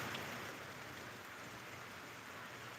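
Steady rain falls, a constant soft hiss of drops on surfaces with no breaks and no voices.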